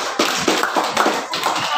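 Students in a classroom applaud everyone after group presentations, with brisk, continuous clapping from many hands and slight rhythmic surges throughout.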